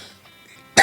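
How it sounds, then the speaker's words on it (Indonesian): A single sharp cough from an itchy throat bursts out at the end after a near-silent stretch. "Batuk gatel sekali ini tenggorokan."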